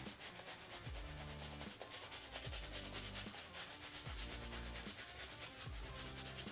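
A shaving brush swirls soap into a face lather, a soft, steady wet rubbing with rhythmic strokes repeating about every second and a half, close and alone.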